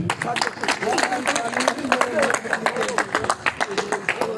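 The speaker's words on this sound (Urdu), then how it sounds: "تالیوں سے ایسے لگ رہا ہے جیسے آپ سب تھکے ہوئے ہیں" Scattered audience clapping at a district bar gathering in a Gujranwala housing society, uneven and moderately loud with individual claps standing out, mixed with crowd chatter and a voice over a PA.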